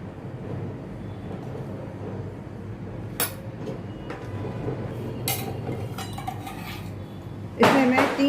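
Utensils clink against a bowl while cornflour paste is mixed for methi mathari, several sharp scattered taps over a low background hum, ending in a louder cluster of clatter.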